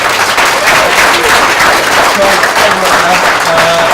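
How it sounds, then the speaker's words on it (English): An audience at a live whale festival show claps enthusiastically, a loud, sustained burst of dense applause from a large crowd, with a few faint voices and cheers mixed in. "Give them a massive round of applause, everybody, please."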